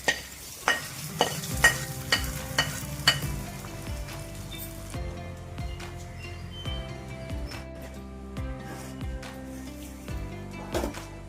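Fried ingredients being stirred into gongura pulihora in a pan, with repeated scraping and clattering strokes of a spoon at a steady rhythm, close and moderately loud, without talk.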